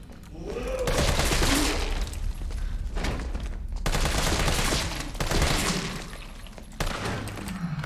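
Assault rifle gunfire in a Resident Evil game, heard as loud sustained bursts of rapid shots broken by short pauses, close and dominant throughout.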